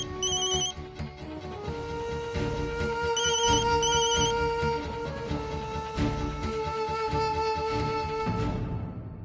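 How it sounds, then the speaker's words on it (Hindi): A mobile phone ringtone plays a repeating electronic melody for several seconds, fairly close, with no talking. "रिंग तो यहाँ से आ रही है।"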